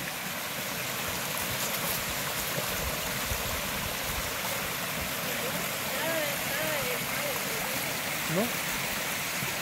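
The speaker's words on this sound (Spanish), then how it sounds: "Ahí ve el río." A river flows past a natural handrail path in a steady broad rush of water, close and continuous, while people talk over it and a whistle-like chirp cuts in briefly.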